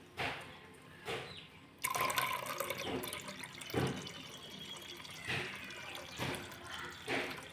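Guava leaf water being poured into tamarind extract for rasam, with splashing bursts and gurgles that come and go over several seconds, fairly quiet and close.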